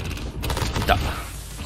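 Gunfire from an enemy player in Call of Duty Modern Warfare, a free-for-all match, sounds as a continuous clattering burst of automatic shots at steady loudness, with faint talk underneath.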